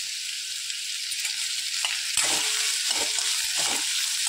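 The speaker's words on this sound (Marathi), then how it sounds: "इथे पहा अशा प्रकारे आपण हलवत राहायचं आहे, म्हणजे जेणेकरून तो नरम पडेल कांदा" Onion and garlic cloves fry in a pan for a restaurant-style fresh cashew curry, making a continuous sizzle broken by several scraping stirs of a spoon against the pan, close and with no voices.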